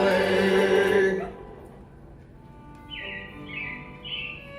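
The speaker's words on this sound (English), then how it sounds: "it looks like the Robins are getting ready to celebrate Valentine's Day today" Robin chirps ring out at an indoor theme park show as a song fades away, with a few short, bright calls repeating in the quiet that follows.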